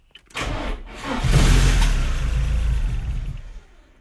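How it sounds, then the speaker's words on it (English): A Porsche 924 S Turbo cranks and fires up with its fuel pump disconnected, a short starter whirr followed by a loud, close engine catching and running roughly before fading down near the end. "hopefully, the car will start, run for as much fuel as is in there"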